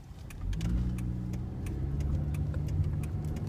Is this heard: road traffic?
yes